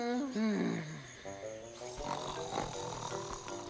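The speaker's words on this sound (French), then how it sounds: "Ce sont les ronflements" Deep rumbling snores from a cartoon character rise and fall over a soft musical background, with a few low grunting breaths in between.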